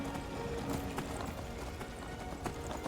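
Hooves of a spectral ghost horse clip-clop steadily across farmland in the Skyrim video game, a quick trotting rhythm under ambient game music and wind, soft and close without talk.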